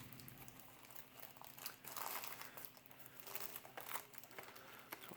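Crinkly plastic wrapper of a Star Wars CCG Reflections III booster pack being opened, steady close rustling and crackling throughout, quiet and without speech.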